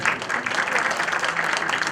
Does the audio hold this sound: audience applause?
yes